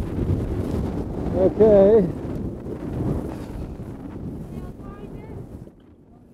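Strong wind buffets a sailboat during storm sailing, a dense rushing roar that fades toward the end, with a brief spoken word partway through.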